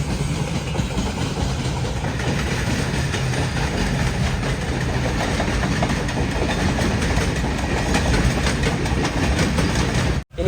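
Indian Railways WAG-12 electric locomotive hauling a sleeper-class express, heard from on board as a continuous loud rumble with rhythmic clatter of wheels over rail joints throughout.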